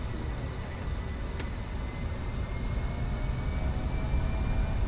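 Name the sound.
Fokker 70 jet engines at takeoff thrust in flight simulator video game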